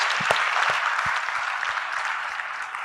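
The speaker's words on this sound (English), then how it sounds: "a round of applause for all the panelists, and thank you very much" A live audience applauds the panelists at the close of a climate change and disaster risk reduction panel discussion: steady, dense clapping that holds at an even level throughout, with a few sharper claps standing out near the start.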